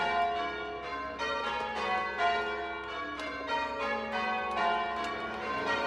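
Church bells rung by hand by a medieval-style bell ringer peal continuously, overlapping strikes ringing out in a steady, dense cascade with no voices.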